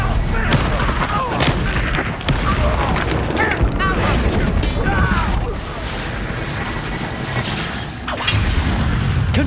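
Confringo blasting spell explosions in Hogwarts Legacy, loud booming blasts and crashing impacts in a dense, busy stream of combat noise, with voices heard over the action.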